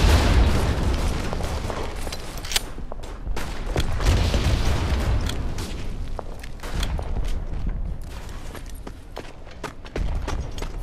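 Explosions and battlefield blasts echo through trench warfare in the WWI shooter Verdun, a dense run of booms and sharp bursts over constant rumbling background noise.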